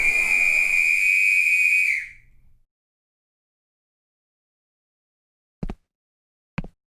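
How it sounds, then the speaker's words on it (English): A loud, steady whistle blast holds for about two seconds and cuts off, followed by silence and two short, sharp knocks. "the blast of a starter whistle cut through the pandemonium like a knife"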